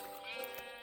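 A sheep bleats once, short and fairly faint, in Minecraft Beta 1.7.3 singleplayer, a wavering nasal cry set against quiet game ambience.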